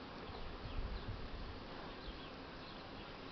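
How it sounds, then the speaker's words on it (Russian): Faint, steady buzzing of many honeybees flying around their hives on a cleansing flight, a soft continuous drone over a hushed outdoor background with no talking, in November at about 15°C. "Вот решили пчелы облететься"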